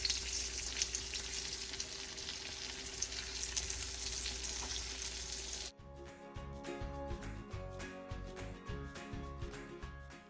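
Battered green tomatoes fry in a skillet with a dense, bright hiss and crackle that holds steady for about six seconds, then cuts off abruptly and gives way to rhythmic music.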